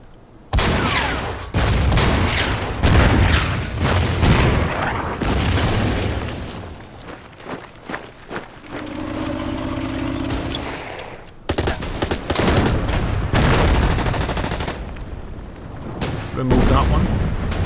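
Explosions and gunfire strike a tank in the Order of Battle wargame, set in the Winter War at Suomussalmi. Loud booms and rapid volleys of shots follow one another almost continuously, with one brief lull of tonal effects midway.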